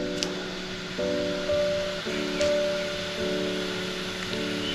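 Cumin seeds crackle in hot oil in a pan, a steady close hiss like light rain with a few sharper pops, and a faint background hum runs underneath.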